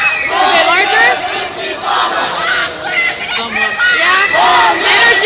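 Protest march crowd in San Francisco at night, many voices shouting and chanting together in a loud, dense, continuous roar with rising and falling whoops.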